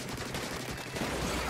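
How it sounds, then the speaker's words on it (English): Loud, dense burst of gunfire-like bangs and blasts from a Splatoon 3 online match, crackling continuously through a short stretch of game action. "Nice, huge explosion."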